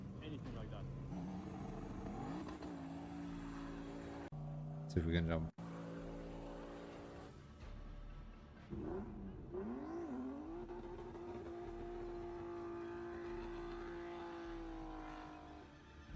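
A Volvo 240 and a BMW E28, both running LS engines, street racing in Sweden: engines rev and rise in pitch under excited talk, with a brief loud clatter partway through.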